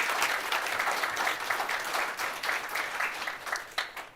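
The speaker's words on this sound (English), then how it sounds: "they deserve a big round of applause." An audience applauds at a Cuyahoga Falls City Schools board of education meeting, with dense, steady clapping from many hands lasting around four seconds.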